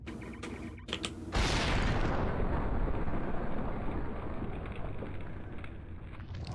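A large explosion in the video game Max Payne erupts loudly after a few brief clicks, then rolls into a long, dense rumbling blast with crackling debris that slowly decays over several seconds.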